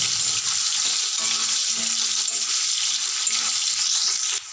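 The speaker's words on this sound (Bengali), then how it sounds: "1 চিমটে লবণ আর 1 চিমটে হলুদ দিয়ে ভালো করে আলুগুলোর গায়ে মাখিয়ে আমি ভেজে নেবো" Potatoes frying in hot oil crackle and sizzle steadily and loudly, a bright continuous hiss close by that cuts off near the end.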